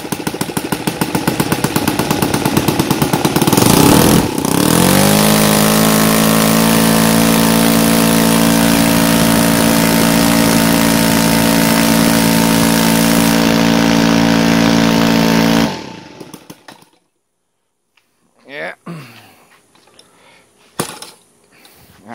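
An NGH FG 38 four-stroke engine with CH ignition timed to 30 degrees BTDC, running loud and close with a steady idle that revs briefly, settles, then cuts off into quiet handling sounds near the end.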